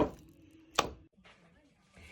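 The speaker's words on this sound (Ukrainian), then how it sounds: "Добре вимішую і відбиваю фарш." Fish cutlet mince, mixed with dill, parsley, salt and pepper, is kneaded and slapped down by hand, giving soft squelching handling noise with one sharp close slap in the middle.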